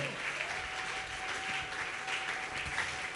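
A church congregation applauds for the Lord: steady, dense clapping from a large crowd, sustained at even strength throughout with no voices standing out.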